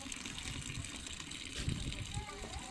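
Water gushes steadily from St. Michael's spring in a park, a continuous rushing splash heard close and fairly quiet, with voices talking over it.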